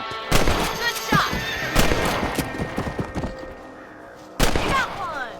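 Gunshots ring out while hunting rabbits on horseback in Red Dead Redemption, several sharp reports in quick succession early on and another loud shot near the end, with hoofbeats and a horse's whinny in the mix.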